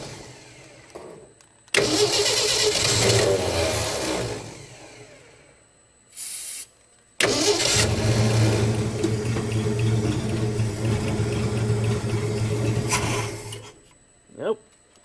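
A 1967 Ford F-100 truck, sitting unused for over 30 years, cranks on starting fluid in two long bursts of steady starter grinding separated by a brief pause, loud and close, without catching.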